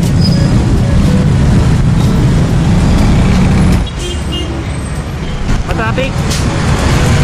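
Dense road traffic in Manila forms a loud, continuous roar of cars and buses, dipping slightly near the four-second mark. A voice talks over it.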